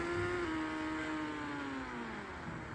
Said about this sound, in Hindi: अरे पहाड़ पे हमारी बाइक चल चुकी है।